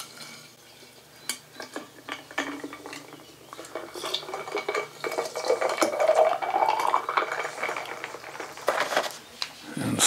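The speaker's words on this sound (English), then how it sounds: "and then we're going to put some water in." Water pours into a growler over ice and instant raspberry tea powder, the filling tone rising steadily in pitch, with close clinks of ice and container handling around it.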